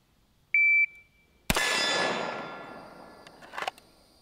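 Shot timer at a shooting range gives a single steady electronic beep, followed by a loud .45 pistol shot from a 6-inch Rock Island 1911 that rings out and decays, with clatter near the end.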